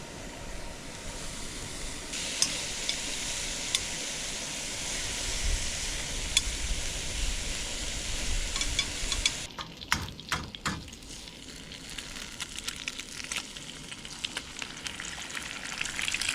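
Food cooking in a pan on a camping stove outdoors, producing a steady hiss and sizzle that thins out partway through into scattered crackles and pops, with no voices.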